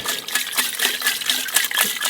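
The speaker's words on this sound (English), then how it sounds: "Heated up some water and we simply put it into the tank. Now we shake it up" Hot water sloshes and churns inside the coolant tank of a Mazda RX-7 FB as it is shaken, rhythmic close splashing gurgles throughout with no voices.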